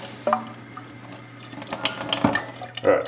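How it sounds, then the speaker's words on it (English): Water runs from a sink tap over a sponge being soaked, a soft steady splash with a few louder gurgling bursts, close by beside a faint background hum. "So what we want to do is take it over to the sink here. And we'll go ahead and get it good and wet."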